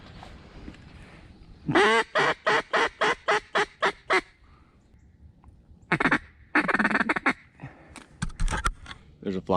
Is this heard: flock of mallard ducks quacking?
yes